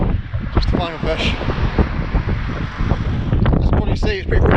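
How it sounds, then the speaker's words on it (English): Strong mountain wind near Mont Blanc buffets the microphone with a constant roaring rush, loud and steady throughout. "it's pretty windy up here"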